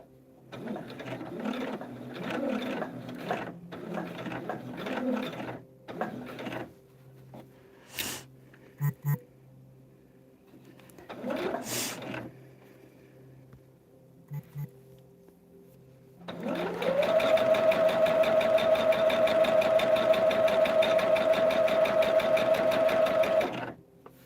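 After scattered handling clicks and a few brief bursts of talk, a sewing machine stitching a star-pattern table runner starts up and runs in one steady, close, continuous whir for the last several seconds.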